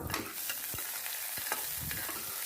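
Garlic and onion sauté in a pan with a soft, continuous sizzle broken by a few sharp stirring clicks and scrapes of the spatula.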